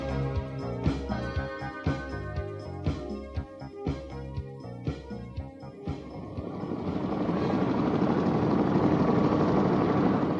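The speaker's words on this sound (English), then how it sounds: "The helicopter took off and climbed slowly into the sky" A helicopter engine starts up and the rotor beats settle into a steady, thickening whir as it takes off, rising to a loud continuous roar by the end.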